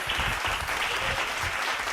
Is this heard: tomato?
no